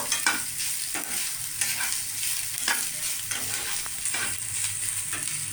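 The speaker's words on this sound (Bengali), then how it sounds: "একটু ভালো করে ভেজে নেব।" A spatula stirs taro paste frying in a pan in steady, repeated scrapes over a constant sizzle, close and fairly loud, with no voices.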